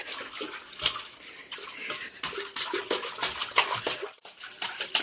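A small child splashes and sloshes in bath water, with irregular soft splashes and trickles close by and continuing for several seconds.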